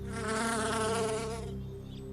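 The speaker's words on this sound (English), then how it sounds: "And a bee sips from a drop of dew." A bee hovering close by, giving a loud, steady insect drone with a strong harmonic hum that holds for about a second and a half and then fades away.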